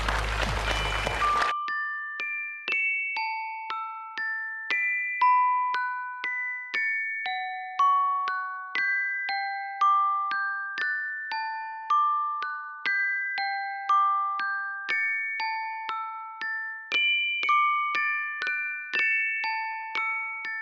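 Electronic bell pressed on a Vietnamese televised dating show, Lunar New Year 2022 special: a short noisy burst, then a long, bright, tinkling chime melody of evenly paced notes, clear and alone with no talk.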